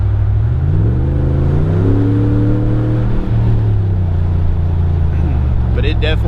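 A 2019 Ram Rebel 1500 pickup fitted with a Carven cat-back exhaust rumbles with a deep, steady low drone and rising and falling revs, recorded from inside with the windows and rear glass down.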